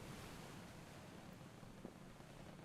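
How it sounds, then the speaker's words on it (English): Ocean waves and wind form a steady, dense rushing wash for a sea voyage scene, continuous and fairly soft, with no talking over it. "We've got waves and stuff. Wind."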